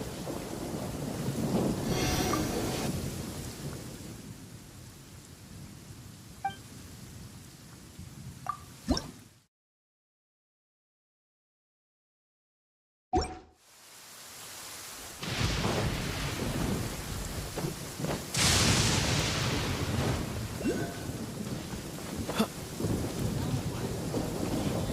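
Thunder rumbles and rain patters with drips during a storm in Genshin Impact, loud and steady, cutting out briefly to silence before the downpour and thunder return.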